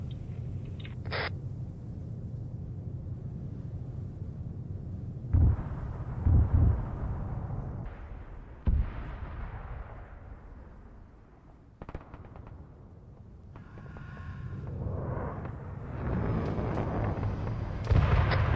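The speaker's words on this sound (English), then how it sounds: "We're being airstriked. We're being strafed by enemy fighter jets." Airstrike explosions from enemy fighter jets in the Arma 3 war game: several heavy, booming blasts land close by, one after another, over a steady low rumble of battle and engine noise, with no talk.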